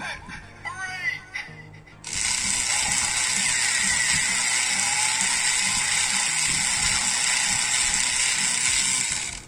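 A steady, loud electronic whooshing hum from a Kamen Rider Build DX Drill Crusher toy weapon holds for several seconds after a brief burst of chirpy, warbling tones, as its power attack fires.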